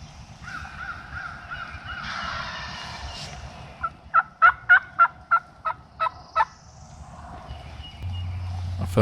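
A wild Alabama gobbler turkey gobbles outdoors at middling distance, a rapid rolling series of about eight sharp throaty notes, with other birds calling faintly around it.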